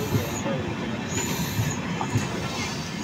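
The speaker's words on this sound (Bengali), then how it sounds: "দেখতে পাচ্ছেন তিনটা ট্রেন আপনাদেরকে লাইভ দেখাইলাম।" A new passenger train runs on the Mizoram railway line near Hailakandi, a loud close continuous rumble of wheels on rails with rhythmic thumps and high hissing squeal, and faint voices underneath.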